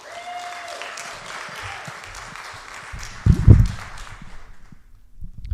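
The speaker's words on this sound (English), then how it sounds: "Give her a round of applause." Modest applause from a church audience welcoming a guest to the stage, light clapping under a low murmur with a louder burst of thumps midway before fading.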